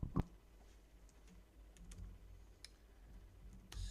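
Fingers type a command on a computer keyboard, producing a few soft, scattered key clicks at close range in a quiet room.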